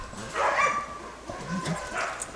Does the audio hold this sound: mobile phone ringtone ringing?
no